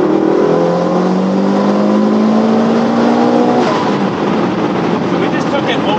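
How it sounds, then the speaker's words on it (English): A Honda Civic Type R accelerates hard with its engine note climbing steadily as the revs rise, then dropping at a shift, loud and close throughout. "Look at Will driving the Type R."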